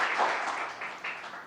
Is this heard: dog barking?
no